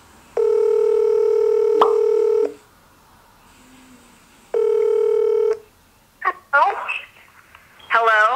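A telephone rings out on the line during a prank call, two long steady ring tones separated by a pause, followed by a brief burst of a voice at the end.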